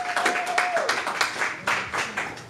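A church congregation applauds, a fairly dense patter of many hands clapping at moderate volume, with a sustained tone fading early on and some voices mixed in.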